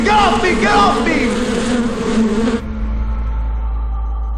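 A loud swarm of buzzing bees drones close and continuously for a few seconds, then cuts away to a quieter low hum.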